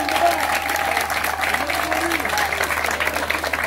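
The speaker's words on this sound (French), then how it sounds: "Je voudrais qu'on applaudisse pour Mesme Kondondo." A crowd claps steadily in sustained applause, with faint voices mixed in beneath the clapping.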